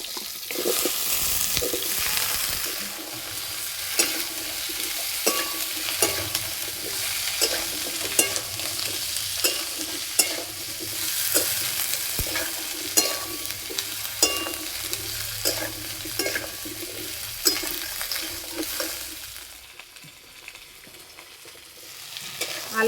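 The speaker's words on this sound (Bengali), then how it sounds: "আলু আর কপি ভালো করে ভেজে নিয়েছি" Potatoes and cauliflower frying in oil for a Bengali dish, a steady close sizzle broken by repeated scrapes and clinks of stirring, easing off to near quiet toward the end.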